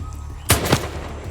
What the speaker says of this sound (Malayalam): വിക്ടോറിയ അവനെ വെടിവെച്ചു കൊന്നു.